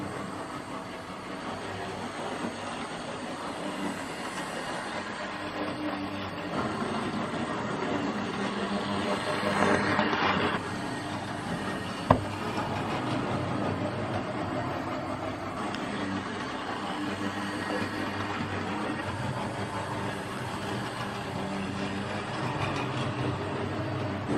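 Hornby Only Fools & Horses limited edition model train set running: a steady, close whirring rumble that lasts throughout, with one sharp click partway through and no talking.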